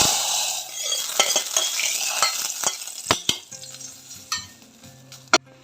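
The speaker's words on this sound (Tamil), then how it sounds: "கடுகு, வெந்தயம், சீரகம் தாளித்து கொட்டிக்கோங்க." Mustard seeds, fenugreek and cumin crackle and sizzle in hot oil, with sharp popping bursts and a few metal scrapes of stirring, no voices.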